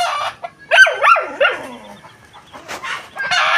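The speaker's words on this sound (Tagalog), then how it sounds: "Nangingitlog yatang manok sa itaas na yun. Bakit maingay ang manok?" Loud, agitated clucking from a nearby hen in choppy bursts, with a few squawks and quieter rustling between calls.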